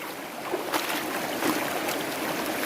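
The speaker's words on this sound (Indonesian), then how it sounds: "Jadi ini jalur aliran sungai." A shallow river stream flows along a trekking path, a steady soft rush of water with a few faint splashes, moderately close and continuous, with no talk.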